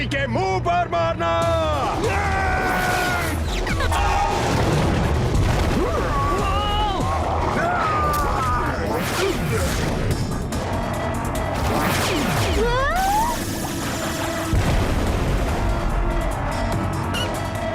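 A cartoon explosion blowing up a tower in the animated series Slugterra, booming blasts and bursts amid whooshing effects and swelling music, loud and busy throughout.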